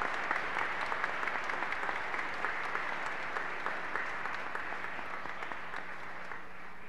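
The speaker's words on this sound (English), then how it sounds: "round of applause for them" A church congregation at Mass claps for a group of young people, a sustained, even roll of many hands that gradually thins and fades toward the end, with no voices over it.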